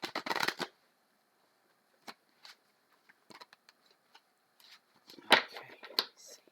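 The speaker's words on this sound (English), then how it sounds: "Gotta give them a good shuffle" Tarot cards being shuffled: a crisp burst of riffling at the start, then scattered soft taps and flicks of the deck, with a few louder riffles later, close and quiet.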